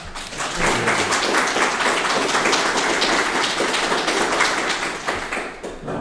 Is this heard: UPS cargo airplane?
no